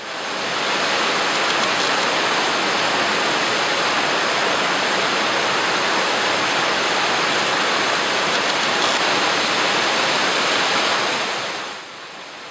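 Pistyll Rhaeadr waterfall roars as a loud, steady broadband rush of falling water, close and unbroken for the whole stretch, easing slightly at the very end.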